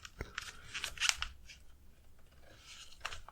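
Paper is creased and folded into an origami crane, giving soft, close crinkles and sharp crisp snaps in quiet, irregular bursts.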